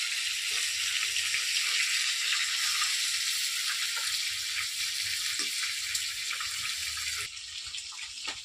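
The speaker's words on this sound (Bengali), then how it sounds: "মাছটা 1 পিঠ ভাজা হয়ে গেছে, আবার আমি উল্টে দিচ্ছি, উপর দিকটা ভেজে নেবো।" Chital fish frying in a pan, a steady loud hiss and crackle of hot oil running throughout, dropping slightly in level near the end, with no talking.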